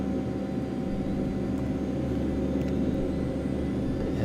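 A simulated Eclipse 550 business jet's left engine spools up during start in the X-Plane flight simulator, a steady loud whine and low rumble running continuously with no speech.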